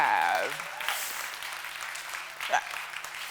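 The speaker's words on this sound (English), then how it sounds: "So shall we pause and just clap for ourselves for showing up?" An audience at a talk breaks into applause, a dense burst of clapping that starts loud and thins out over a few seconds, with faint voices and rustling beneath.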